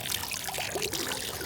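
Water runs from a Roman nasone public drinking fountain in a steady, close trickling stream, with no voices.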